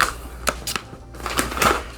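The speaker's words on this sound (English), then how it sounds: "let's go ahead and move these bags out of the way" Coffee bags being shifted aside on a table: several crisp crinkling, crunching rustles of stiff packaging in quick bursts, close and fairly loud, with no speech.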